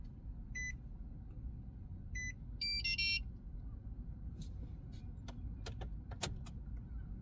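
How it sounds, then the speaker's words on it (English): Car key going into the ignition of a 2011-2014 Nissan Juke: a few brief metallic jingles and clicks up close against a steady low cabin rumble, followed by scattered faint ticks. "Now insert your working key in the ignition."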